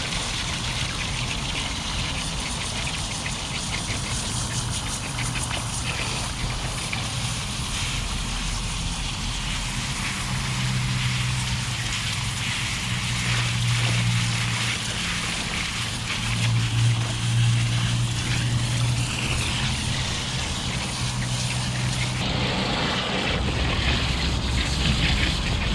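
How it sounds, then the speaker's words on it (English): A high-pressure garden hose rinses dye out of a pleated-yoke tie-dye tee outdoors, giving a steady, loud hiss of spraying and splashing water with a low rumble underneath that runs the whole time. "It also helps if you have a really high pressure hose."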